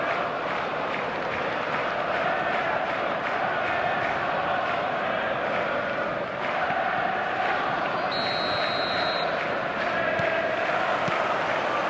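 Dense stadium crowd roar on match day in the eFootball video game, a constant broad swell of voices and chanting with a brief high tonal blip partway through.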